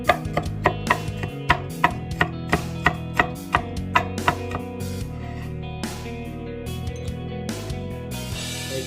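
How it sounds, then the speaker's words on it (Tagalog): A knife chops garlic on a board in a quick run of sharp, evenly spaced taps that thin out and stop partway through, over a faint background hum. "Maghiwa muna tayo ng bawang."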